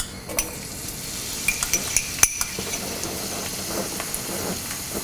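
Crushed shallots sizzle steadily in hot coconut oil in a pan for a Kerala jackfruit seed stir fry, with a continuous close frying hiss broken by a few light metallic clinks of a spoon.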